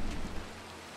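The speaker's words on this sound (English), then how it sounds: "Why is it still raining?" Steady rain falling in Minecraft, a dense hiss of drops with a low rumbling layer that fades slightly partway through, no voices.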